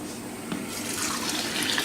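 Rainwater pours steadily into a baguette dough mix of bunya nut, yeast and flour, a close, continuous splashing rush that holds at an even level from start to finish with no talk over it.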